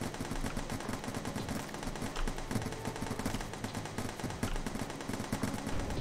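Dense, continuous rapid gunfire fills a video game firefight, a steady loud barrage of overlapping shots with no pauses and no talking.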